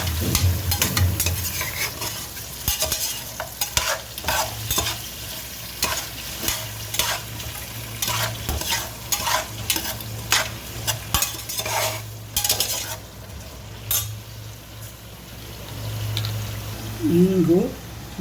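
Vegetables for a vegetable pulao are stirred and fried in a pan, with repeated scraping strokes over a steady sizzle, close and fairly loud, and someone talks at times.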